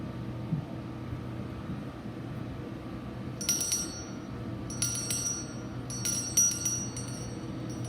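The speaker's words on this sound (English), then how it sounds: "With the ringing of this bell, we start a new story to tell." A bright bell rings in several separate bursts at the opening ceremony of a heritage festival, over a low, steady background hum, with no voices.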